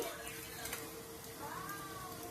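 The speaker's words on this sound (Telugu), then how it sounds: "కరివేపాకు కూడా వేసేసుకున్నాము" Curry leaves dropped into hot oil for South Indian pulihora tamarind rice give off a faint, steady sizzle that holds for a couple of seconds, with a thin tonal ring sitting over the crackle.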